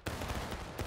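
A dense volley of musket fire in the Civil War game War of Rights, a loud sustained crackle of many shots overlapping for nearly a second.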